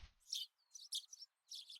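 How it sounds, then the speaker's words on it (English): Birds chirp in short bright bursts, several quick tweets with brief gaps, heard clearly and alone in the Higurashi When They Cry visual novel game. "The chirping of birds served as my alarm clock."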